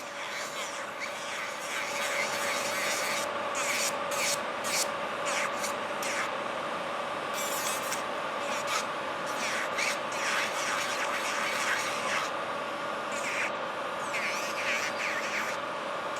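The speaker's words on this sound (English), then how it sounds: "I'm trying to file kind of nice and even with the same pressure" Fingernails filed with a nail file in quick, even strokes, a continuous soft rasp with brief bright bursts, close and moderately quiet, with no talking.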